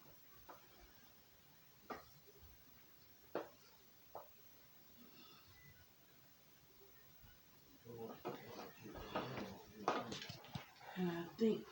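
Turkey dressing is scooped from a heavy bowl into a pan: a few sharp utensil clinks and knocks early on, then a denser run of scraping and clattering toward the end, with quiet talk throughout.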